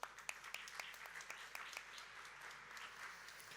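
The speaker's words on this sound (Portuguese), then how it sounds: "Sofia Borges Pereira, para quem eu peço uma salva de palmas." An audience at a European funds showcase event applauds, a faint spread of clapping with a few sharper individual claps standing out, heard from a distance.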